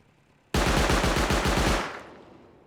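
An automatic turret in the survival game Rust fires a rapid, loud burst of roughly a dozen shots over about a second and a half, close up, then trails off into a fading echo with no talking.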